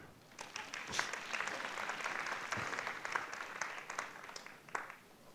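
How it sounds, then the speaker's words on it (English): An audience at a conference session on policies for recognition of prior learning applauds as four guests enter the stage, steady mid-distance clapping with a few sharper claps standing out, fairly soft overall. "A big hand for our 4 new guests entering the stage."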